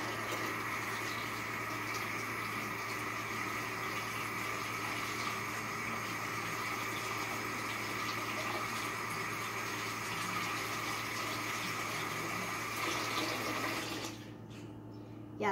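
A tap runs steadily to rinse homemade slime made without glue, giving a continuous close gush of water that carries on evenly before cutting off near the end, with no talking.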